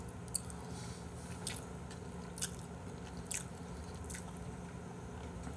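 Wet smacking and squishing chewing sounds of someone eating braised spicy chicken and squid during a mukbang, with soft clicks and slurps repeating irregularly over a steady low background hum, close-up and without talk.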